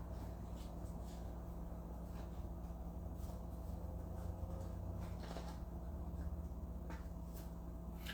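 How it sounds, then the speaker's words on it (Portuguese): Constellation cards being shuffled by hand, a soft continuous riffling and sliding of card stock that runs steadily throughout, close and fairly quiet, with no one talking. "Deixa eu só embaralhar."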